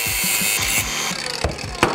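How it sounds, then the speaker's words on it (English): Small angle grinder cutting metal in a home workshop, a loud continuous high whine with gritty texture and a few sharp bumps as the disc bites, steady throughout. "you can use your baby grinder."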